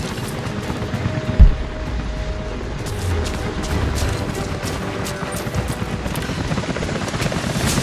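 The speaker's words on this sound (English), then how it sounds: "helicopters are headed your way" Dense low rumble of helicopter rotor noise in Rise of the Tomb Raider throbbing steadily throughout as helicopters approach, with a sharp thump early on and scattered crackling bursts like distant gunfire.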